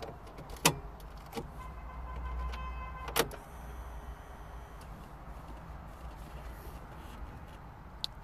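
Ignition on a 2007 Volkswagen Golf is cycled with sharp clicks near the start and again a few seconds later, between them a brief electric whir, followed by a quiet low hum and a final faint tick.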